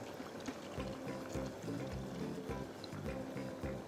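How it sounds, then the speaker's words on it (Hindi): A little water is poured into mixed vegetables cooking dhaba style, giving a steady, close liquid pour with some pan sizzle throughout. "तो पानी थोड़ा सा डालकर"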